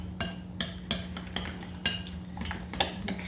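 A spoon clinks steadily against a bowl while parsley is stirred into yogurt for homemade dog treats, a run of close, light metallic taps at an irregular rhythm over a low steady hum.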